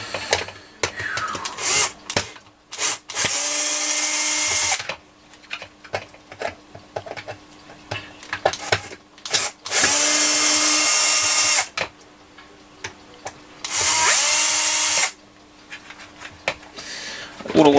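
A power drill unbolts the housing of a Hoover UNP252A cordless vacuum in several loud, close bursts of whirring, each lasting one to three seconds, separated by quieter clicks and handling noises.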